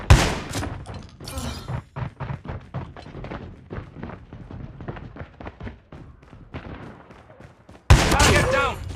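Call of Duty Mobile multiplayer gunfire, with a run of sharp shotgun blasts and thuds in quick succession, then a quieter stretch and a loud final burst near the end.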